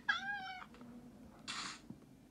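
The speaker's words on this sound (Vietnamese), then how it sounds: "Mèo khả năng tự đi theo mình các bạn nhé. Meo meo." A cat meows twice in a mobile horror game, a short harmonic call at the start and a brighter, noisier mew about a second later, close and fairly clear over quiet game background.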